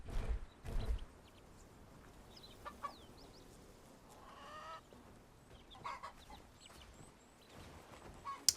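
Farmyard chickens and chicks in the medieval village game Bellwright give faint scattered clucks and chirps over quiet ambience, with a couple of louder thumps at the start.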